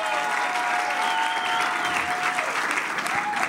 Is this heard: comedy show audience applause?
yes